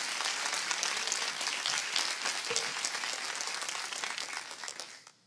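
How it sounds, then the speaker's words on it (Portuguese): A round of applause from a church congregation at a year-end service, a dense, steady wash of many hands clapping at a distance, fairly soft, that fades out at the end with no talk over it. "Você consegue louvar Jesus mais uma vez, dando uma salva de palmas?"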